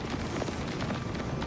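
A fiery blast in Oblivion Remastered erupts into a steady, loud roar of flame, a dense rushing burst that holds without break for the whole moment.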